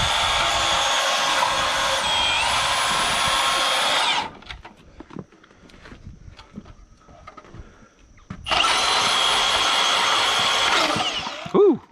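Air-powered tool working to remove a socket in a garage, running in two loud, steady high-pitched whirring bursts separated by a stretch of quieter clattering and handling noise.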